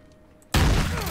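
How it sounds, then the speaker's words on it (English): A shotgun fires in the Call of Duty: Modern Warfare II campaign: a single loud, sudden blast that breaks a quiet stretch and rings out for a moment afterward. "Let's try the shotgun."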